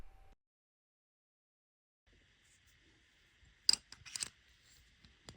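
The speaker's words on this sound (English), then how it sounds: "sliding the barrel onto the slide and then replacing the barrel bushing on the end" 1911 pistol barrel being slid onto the slide and the barrel bushing replaced, a few faint metallic scrapes and a short cluster of sharp clicks near the end, after near silence.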